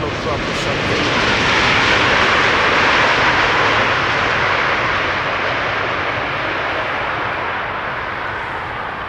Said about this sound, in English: Is there a private jet passing overhead?